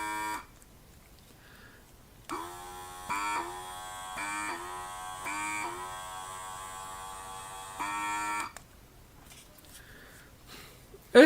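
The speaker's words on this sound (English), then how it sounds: "It's a liquid dispenser pump." Small USB-powered liquid dispenser pump with a switch, running in short buzzing bursts, a harsh electric drone that starts, stops and restarts several times at close range.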